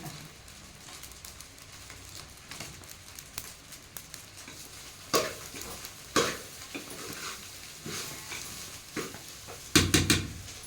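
Ingredients for a chutney fry in a pan, a faint sizzle under stirring, with sharper scrapes and clinks of a utensil against the pan that grow louder toward the end.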